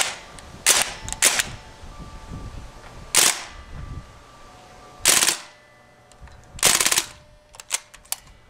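A KWC Mini-UZI CO2 airsoft gun shoots several short sharp bursts of rapid snapping shots separated by pauses, with faint handling clicks between them and no talking.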